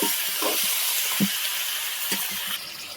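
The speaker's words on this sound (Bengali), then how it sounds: "এবার তুলে দিচ্ছি চিকেন। চিকেনটাকে ভালো করে ভেজে নেব।" Chicken pieces frying in oil that was tempered with dried red chillies, bay leaves and cumin give a steady hissing sizzle, broken by a few soft low knocks from the pan.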